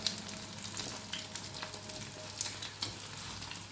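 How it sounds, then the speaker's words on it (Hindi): An egg frying on a hot tawa beside a paratha gives a steady, close sizzle with soft crackles throughout, alone with no talking. "साथ ही ये देखिए हमारा अंडा जो है वो भी फ्राई हो रहा है।"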